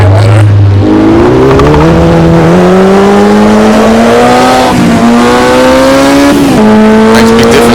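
Formula Junior race car in Automobilista 2 accelerating hard through the gears, its loud engine note climbing steadily in pitch and dropping at each upshift, with brief tire noise near the start.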